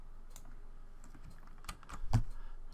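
Quiet computer keyboard taps and clicks come close by in a short irregular run, with one sharper click standing out near the end.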